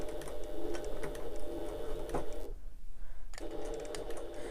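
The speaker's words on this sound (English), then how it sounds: "sewing up that line to the top of the card slots, and a couple of back stitches" A sewing machine stitches a line up to the top of the card slots on a fabric wallet, running in a fast steady mechanical patter, pausing briefly, then resuming.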